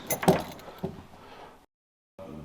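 Keys jangle and clink at the door of an old cookhouse building at the former RAF Driffield Alamein Barracks, a short close metallic rattle followed by a knock, a brief silence, then faint handling noise.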